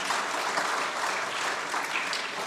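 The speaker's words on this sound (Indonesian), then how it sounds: "Mari kita berikan tepukan sekali lagi untuk mereka." Applause from a church congregation after a wedding blessing, steady dense clapping that fills the whole stretch at an even level, with no voices standing out.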